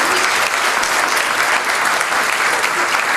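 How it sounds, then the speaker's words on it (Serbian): Steady, dense applause fills a congress hall as the audience greets the president of a businessmen's patronage society at a scholarship ceremony, clapping loud and unbroken throughout. "Molim, pozdravimo aplauzom predsjedniku patronata privrednika"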